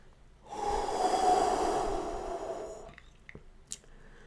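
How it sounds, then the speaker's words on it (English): A single long, deep breath drawn in and let out near the mic by a Detroit Lions fan after a Thanksgiving home win over the Chicago Bears, a steady breathy rush lasting a couple of seconds, followed by small clicks and shuffles. "Deep breath together."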